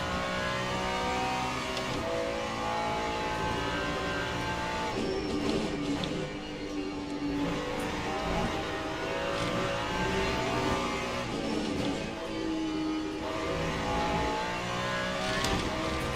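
A race car engine in the Le Mans Ultimate sim racing game at Sebring roars steadily, rising and falling through gear changes and revs over bumpy track, continuous and loud with no talk.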